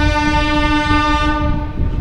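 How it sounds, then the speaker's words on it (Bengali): The Bagh Express pulls out of Bankata station with a loud, sustained horn blast over the heavy rumble of the moving train, steady throughout and close by. "আমাদের ট্রেন কিন্তু ঠিক 2 মিনিট পরেই বনকাটা স্টেশন থেকে ছেড়ে দিয়েছে তার পরবর্তী গন্তব্যের উদ্দেশ্যে।"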